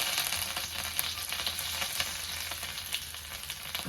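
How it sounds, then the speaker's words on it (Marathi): Crushed ginger and garlic fry in hot oil with cumin and mustard seeds for a Marathi bitter gourd dish, giving a close, steady sizzle with faint crackles and pops throughout. "तर अद्रक आणि लसूण मी फोडलेला टाकते"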